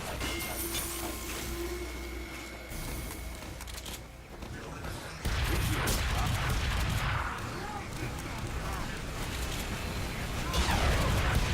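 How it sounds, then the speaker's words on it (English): An engineer's sentry gun in Team Fortress 2 fires in dense, rapid bursts amid loud battle noise. The barrage runs almost continuously and grows fuller and heavier in its second half. "Sentry going up! Here come the spies!"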